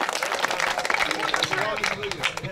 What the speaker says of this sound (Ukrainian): Шефу оплески!